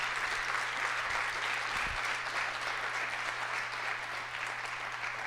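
A church congregation breaks into steady applause during a sermon, a dense, even roar of clapping hands with a faint low hum underneath and one brief thump partway through.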